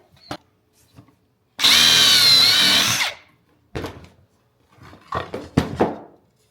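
A power drill whines loudly for about a second and a half, boring a pocket hole in wood with a stop set at 1/2 inch, bracketed by quiet clicks and knocks of handling wood and tools.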